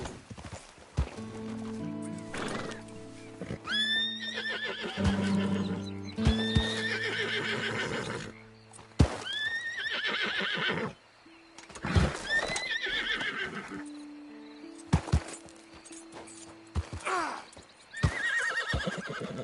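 Horses in a Red Dead Redemption 2 game world neigh and whinny repeatedly in long rising calls, with clip-clopping hooves between them, fairly close and clear, and brief human voices now and then.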